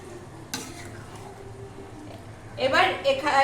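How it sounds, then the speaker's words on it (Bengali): Mung dal cooked with jackfruit is stirred in a pan, a soft spoon scrape early on, then louder scraping and sizzling bursts near the end. "একটু নেড়ে নাও।"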